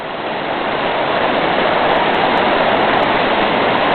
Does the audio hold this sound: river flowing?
yes